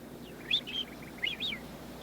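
Small bird chirping in an old fairy-tale production: several bright, short high chirps in quick bursts, close and fairly clear against a faint background hum, with no talking.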